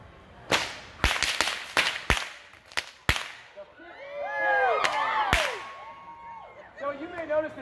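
A performer cracks a bullwhip on a puddled outdoor stage at King Richard's Faire, a Renaissance fair: a string of sharp, loud cracks, then crowd cheering and voices, with a few more cracks cutting through.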